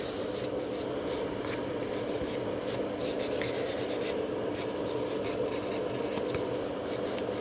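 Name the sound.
filing fingernails with a nail file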